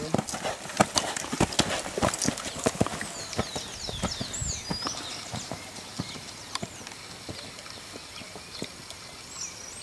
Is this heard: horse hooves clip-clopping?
yes